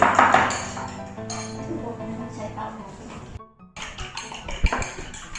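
Chicken seasoned with seasoning sauce is stirred in a pan on a stove that is still off, giving light metallic clinks and scrapes of the utensil against the pan while a person talks over it.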